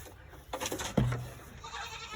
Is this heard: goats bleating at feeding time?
yes